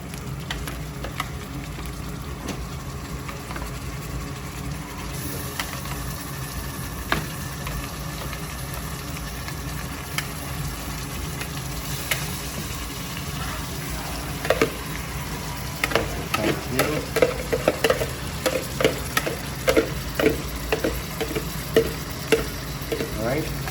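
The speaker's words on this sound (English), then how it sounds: "So the mutton is going to be put in there." Mutton frying in a pot with a steady sizzle, joined partway through by a run of scraping, clattering stirring strokes that grow busier toward the end, close by and without speech.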